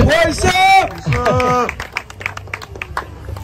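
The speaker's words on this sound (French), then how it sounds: "Je voudrais qu'on les applaudisse tous les deux." An audience at a boxing and K1 weigh-in applauds two boxers, a brief burst of scattered clapping following a man's amplified announcement.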